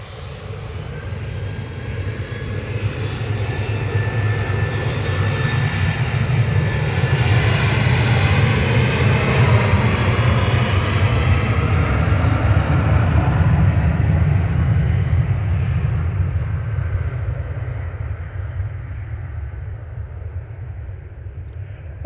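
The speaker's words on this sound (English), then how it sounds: "Ryanair 191 to Belfast there, departing. 737-800 GRUKD." A Ryanair Boeing 737-800 jet departs Manchester Airport on its flight to Belfast, a loud, sustained engine roar that swells to a peak mid-clip and slowly fades as it climbs away, with no talk.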